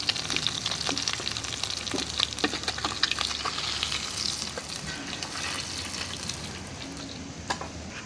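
Steady crackling sizzle of vegetable stalks frying in hot oil, with occasional sharper pops and spatters throughout, no voices.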